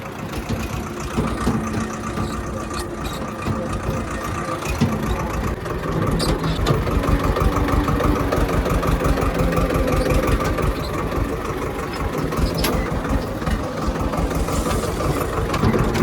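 A tractor engine runs in an onion field at harvest time, giving a loud, close, steady rumbling drone with a rapid throbbing pulse that continues without pause and with no voices.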